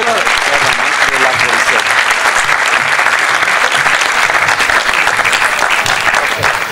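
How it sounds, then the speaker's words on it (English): Loud, dense audience applause at a cultural festival as an award is handed to a councillor, continuous clapping from a large crowd with faint voices underneath. "A round of applause."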